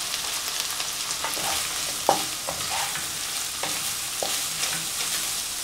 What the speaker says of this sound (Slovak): Teraz pridáme sojové mäsko. Takisto teraz ho necháme opražiť.